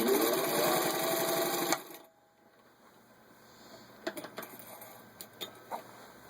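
A vintage 1955 Singer 15-91 sewing machine stitches through a 1/8 inch thick leather belt, running loud and steady with a dense rhythmic mechanical whir for under two seconds, then stopping, followed by quiet room tone and a few faint clicks.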